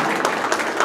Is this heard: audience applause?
yes